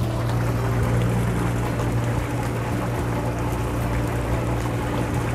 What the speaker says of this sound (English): See the swirling action of the water.